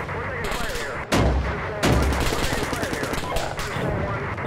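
Gunfire in the Steel Beasts combined arms attack, with loud bursts of automatic weapons and heavier booming shots in quick, irregular succession, up close, and a voice speaking partly beneath the barrage.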